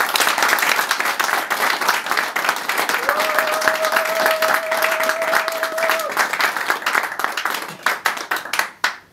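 A Paris audience at a political party gathering applauds for a party secretary-general, the clapping loud and continuous before thinning into scattered, separate claps at the end, with a brief tonal whistle partway through.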